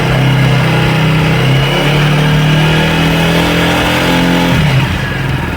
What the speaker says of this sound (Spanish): Vamos a acelerar la motocicleta a 5000 RPM.